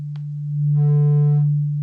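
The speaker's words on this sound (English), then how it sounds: "if we had, say, a sine wave going through, it's pretty audible" A steady low sine tone from the Xfer Serum synthesizer passes through its filter with drive. Midway, a bright buzzy band of harmonics swells in, then fades back to the plain hum, with brief clicks at the edges.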